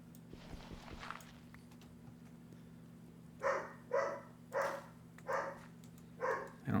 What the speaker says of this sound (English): I don't know what my dogs are going off about